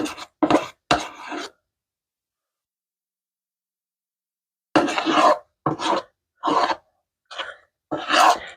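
Frozen keto ice cream is scraped and mixed in a container, heard as short, loud, raspy scraping bursts, three early and five later, separated by a long silence.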